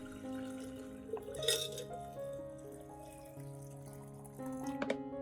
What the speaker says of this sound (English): Add it to 1 liter of clean water.